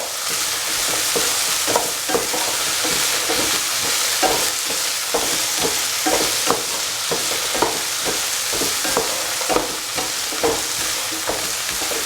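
Pumpkin, coconut and spices stirred in a frying pan over medium flame, a steady sizzle broken by repeated scraping spoon strokes throughout, close and fairly loud.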